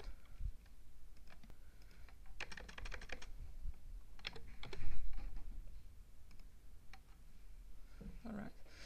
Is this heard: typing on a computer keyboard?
yes